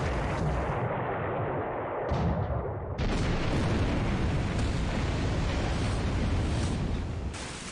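Heavy cruisers shelling Hong Kong in the War in the Pacific strategy game: a continuous dense roar of booming gunfire and explosions, loud and sustained, with a sharp surge partway through and no voices.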